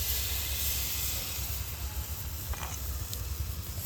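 Potato paratha batter sizzles in a frying pan brushed with white oil, a steady close hiss with no pauses.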